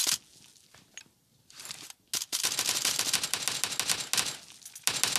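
Rapid bursts of video game gunfire crackle in dense, sustained volleys after a few quieter shots, loud and close with brief pauses between strings.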